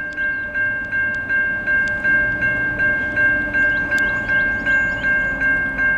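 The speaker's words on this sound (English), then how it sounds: "NS-228 with hopefully the NS Heritage Unit 8114 leading." Norfolk Southern freight train NS 228 with a GE ES44AC heritage unit rolls past, a steady loud rumble with a sustained horn tone and rhythmic clickety-clack pulses repeating evenly throughout.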